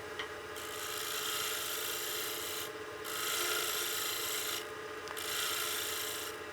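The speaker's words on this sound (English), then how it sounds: "I'm gonna shear scrape towards the tailstock to get my final size" A turning tool shear-scrapes along a wooden utility box spinning on a lathe, toward the tailstock, making a close, steady raspy scraping that swells in three longer passes, separated by short lighter breaks.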